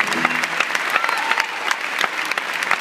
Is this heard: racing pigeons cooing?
no